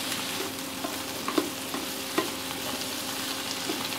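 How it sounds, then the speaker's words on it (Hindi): Vegetables for navratan korma fry in a pan with a constant close sizzle, while a spoon stirs them, making light scrapes and a few soft taps. "हल्का सा फ्राई कर लेंगे।"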